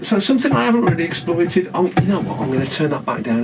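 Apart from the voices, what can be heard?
None of the usual background noises is heard.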